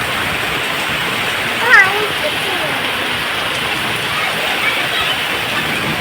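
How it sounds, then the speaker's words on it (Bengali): Heavy rain pours steadily during a storm in hot weather, a loud continuous dense roar of water that fills the whole stretch, with only a faint hint of a voice partway through. "বিশাল জোরে বৃষ্টি হচ্ছে, তোমরা বৃষ্টির আওয়াজ শুনেই বুঝতে পারছো।"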